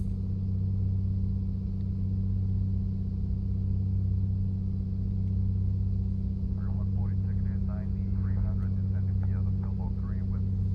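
A Piper Comanche 250 engine drones steadily during a climb in Microsoft Flight Simulator 2020, a constant loud low hum with someone talking over it partway through.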